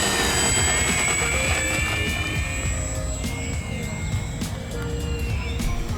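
FMS P-51 Mustang 1100mm Reno Racer RC warbird performing touch and goes, its electric motor and propeller whining steadily at moderate distance, pitch sliding as throttle changes over a continuous outdoor wind and ground noise bed.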